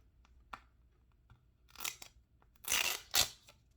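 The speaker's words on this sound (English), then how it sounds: "let's peel this off like this. I'll get that clear film off another time." Clear protective film being peeled off a new Samsung Galaxy S22 Ultra VRS phone case, giving a few short crinkly tearing bursts, with two louder rasping pulls near the end and faint ticks between them, close and quiet.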